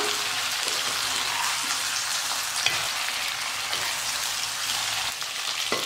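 Raw plantain slices fry in oil in a pan over a medium flame, a steady close sizzle and crackle that carries on throughout with a few soft stirring knocks and no speech.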